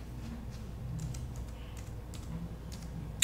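Fingers tap a computer keyboard while typing a name into a Linux Mint 22 Xfce desktop, producing faint, scattered key clicks in short irregular bursts over a low background hum, with one sharper keystroke at the end.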